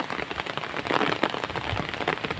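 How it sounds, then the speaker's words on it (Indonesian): Heavy rain pounding steadily on a house roof, a dense continuous hiss with scattered sharper drop impacts, loud and close throughout. "Tadi sempat gerimis ya, sekarang agak besar ini hujannya ya."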